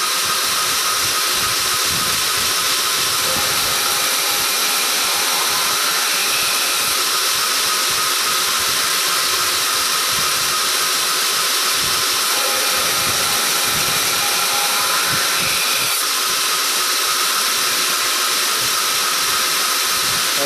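A belt grinder works a knife blade in a steady, loud, hissing whir that runs unbroken throughout, with faint variations as the steel is pressed to the belt.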